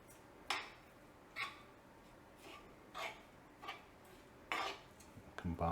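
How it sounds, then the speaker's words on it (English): Stuffed mushroom filling stirred in a bowl: faint, scattered scrapes and clinks of a utensil against the bowl, spaced about a second apart in a quiet kitchen. "Then we'll take this and mix it with this. Give it a good stir."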